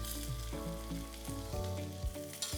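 French beans hit hot oil with mustard seeds, red chilies and curry leaves, giving a steady, close sizzle and crackle of frying with no talking over it.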